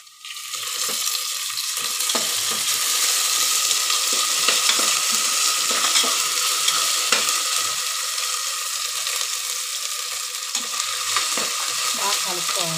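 Ginger garlic paste sizzles and fries in a pressure cooker while being stirred, a loud continuous hiss with scattered scraping clicks from the spoon, steady and close throughout with no talking.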